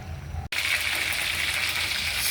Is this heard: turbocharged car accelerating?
no